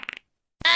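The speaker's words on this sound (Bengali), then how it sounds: "এটা তো ওরই পাদের আওয়াজ," A short fart sound effect in a Bengali comedy song: a few quick sputtering bursts, a brief gap, then a louder, sustained buzzing blast that runs to the end.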